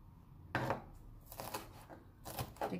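Knife chopping food finely on a board for Salvadoran shrimp in pink sauce: quick, close clusters of crisp taps in bursts, fairly quiet.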